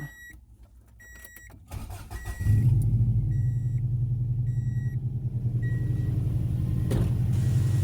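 A 1994 Subaru Legacy Touring Wagon's turbocharged engine, fitted with new turbos and coil-over-plug ignition, cranks briefly and catches, then settles into a loud, steady, close-up idle rumble that holds to the end.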